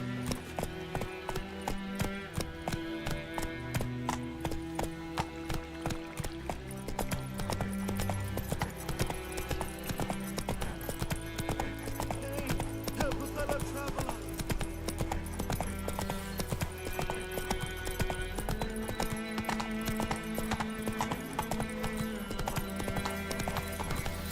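Horse hooves clip-clopping at a steady walking rhythm in The Witcher 3, with an occasional whinny, set against continuous game music.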